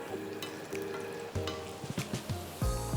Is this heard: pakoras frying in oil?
yes